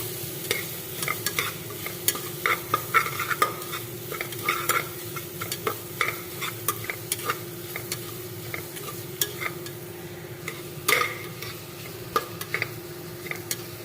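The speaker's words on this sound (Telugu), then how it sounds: "అల్లం వెల్లుల్లి పేస్ట్ బాగా ఫ్రై అవ్వాలి." Ginger garlic paste fries in oil in a pan for green peas curry, with a continuous close sizzle and a busy run of small spoon scrapes and taps.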